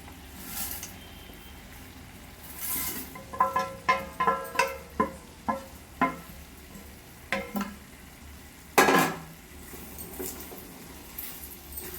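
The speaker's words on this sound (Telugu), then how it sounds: "ఇప్పుడు ఇందులోకి ఫ్రై చేసుకున్న చికెన్ వేసుకుంటున్నాను" Fried chicken pieces being stirred into Manchurian sauce in a pan, giving a run of sharp, rhythmic scraping clacks over a steady low sizzle, with one louder clatter near the end.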